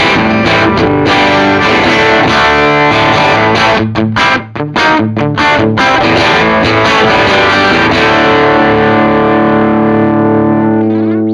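Electric guitar played through a NUX Mighty Plug amp modeller, loud distorted chords and sustained notes with effects and reverb, several short stops mid-phrase, played alone with no talk.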